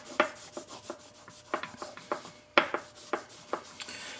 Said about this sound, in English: just take a little bit of abrasive cloth and just clean all those oxides off the knife here